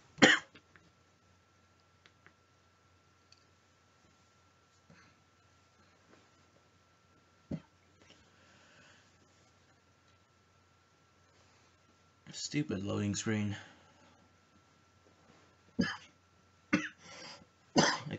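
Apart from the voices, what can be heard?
coughing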